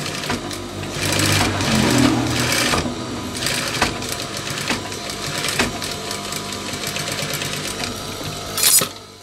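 A sewing machine stitches the back pocket of baggy trousers in a continuous close whir with repeated mechanical ticks, briefly pausing and resuming, and a louder clunk near the end.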